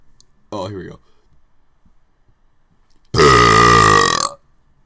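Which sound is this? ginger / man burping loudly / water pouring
man burping loudly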